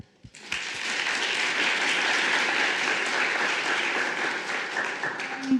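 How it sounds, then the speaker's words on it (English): A crowd at a legal tech event applauds steadily for several seconds, a dense even wash of clapping that starts after a few claps and fades slightly near the end. "another round of applause for her"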